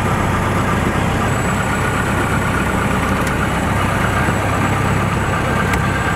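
A Bölkow Bo 208C light aircraft's newly fitted engine running steadily, heard from inside the cockpit as a loud, continuous low drone that stays even throughout.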